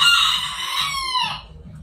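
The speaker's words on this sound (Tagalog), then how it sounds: "Uy, ang ingay ng manok." A rooster crows loud and close, its call trailing off, while hens cluck softly underneath.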